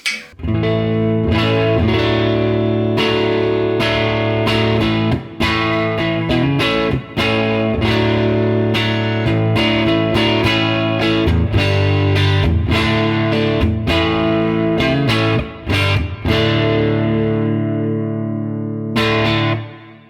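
Strummed electric guitar chords ring loud and steady through a Laney LC30 mk1 amp, gain set at 6, with a slightly gritty, crunchy tone and a touch of reverb, with short pauses between phrases.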